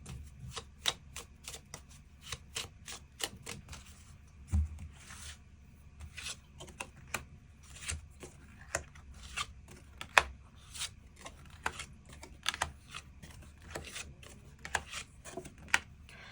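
Tarot cards being drawn and shuffled, a long run of quick, light papery flicks and taps at an irregular rhythm, close and fairly quiet, with no voices.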